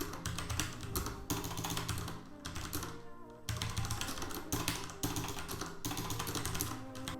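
Rapid multi-key typing on a Master Key Pro S mechanical keyboard with Cherry MX Brown switches, a dense, loud, close clatter of overlapping clicks in several bursts broken by brief pauses.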